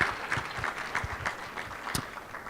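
Scattered clapping from a small crowd at a high school sports hall of fame ceremony, steady and moderately loud for a couple of seconds.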